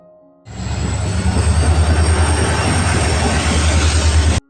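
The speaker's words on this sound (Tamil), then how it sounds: "வந்து 10:20க்குலாம் வந்து ட்ரெயின் வந்துருச்சு" Passenger train arriving at a station platform in Ramanathapuram, a loud steady rumble of rolling wheels and carriages close by that starts abruptly and runs for about four seconds before cutting off.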